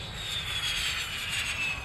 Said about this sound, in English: the F-16, it's called a high-speed taxi, so he starts at one end of the runway and powers up